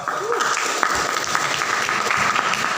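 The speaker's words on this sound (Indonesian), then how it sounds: "baik, tepuk tangan dong." Audience applause at a digital marketing training session, a dense, even round of clapping from a room of people lasting a few seconds, with a voice faintly audible beneath it.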